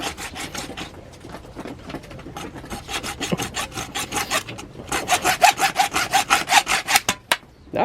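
A hand saw cuts through PVC pipe in quick back-and-forth strokes, starting slower and uneven then speeding into a loud, regular rasping rhythm up close before stopping.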